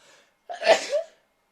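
A single close, sharp sneeze bursts out after a brief quiet intake of breath, loud and alone, during a tarot horoscope reading.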